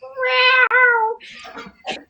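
A cat lets out a loud, drawn-out meow with a brief break in the middle, followed by a couple of softer, shorter chirping mews, close and alone.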